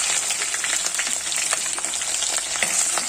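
Fenugreek and mustard seeds fry in hot oil with a dense, steady crackling sizzle that stays close and loud for the whole moment, with no voices over it.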